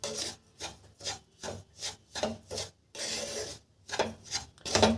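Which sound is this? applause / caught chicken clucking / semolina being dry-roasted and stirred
semolina being dry-roasted and stirred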